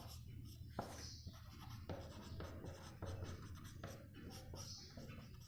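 Pen or pencil writing by hand on paper, a soft continuous scratching with brief stroke accents, close and quiet, no talking.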